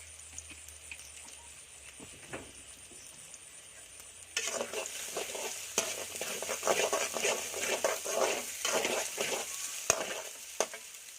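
Egg chow mein is stir-fried in oil in a Kolkata-style kitchen. A quiet start gives way to a loud, close sizzle with repeated scraping stirs and crackles.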